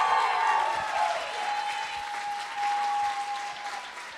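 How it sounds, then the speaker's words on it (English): An audience at an awards ceremony claps steadily, a dense wash of applause that holds strong throughout, with a faint sustained tone running underneath. "please help me give a warm round of applause for Tanvi Atavle."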